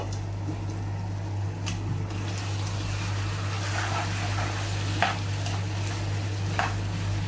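Chicken roast being stirred in a pan, a steady low sizzle and bubbling with a constant hum underneath, and a few faint scrapes of the spoon now and then.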